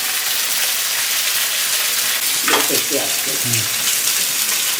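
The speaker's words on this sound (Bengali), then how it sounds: "আদা ভাজা হয়ে গেল এখন আমি আলুগুলো ছেড়ে দেবো" Potatoes drop into hot oil that already has ginger frying in it. A steady broadband sizzle runs through the whole clip, with a brief burst of louder crackling and stirring partway through.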